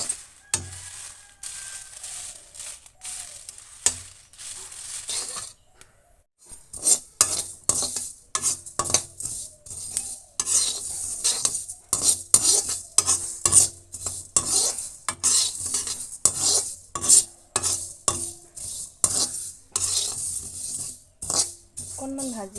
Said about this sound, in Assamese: অকণমান ভাজি লৈছোঁ মছলাখিনিও।